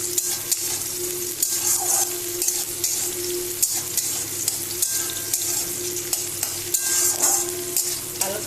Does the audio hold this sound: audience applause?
no